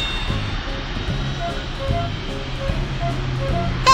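A cartoon plane engine in the Little Panda's Life pilot game hums steadily beneath bouncy game music with repeating tonal notes, moderately loud and with no voices.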